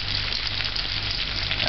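Food fries in a pan while cooking callaloo, with a dense, steady sizzle and crackle that stays loud and close the whole time, no voices over it.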